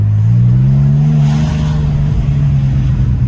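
A Porsche 996 Turbo revs loudly and steadily up close through an aftermarket exhaust, a deep throaty exhaust rumble rising and settling without a break.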